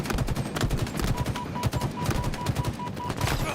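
Rapid automatic gunfire from the shooter video game Halo Infinite during an esports regional finals match, a dense and continuous burst of shots running the full length of the clip with no talking over it.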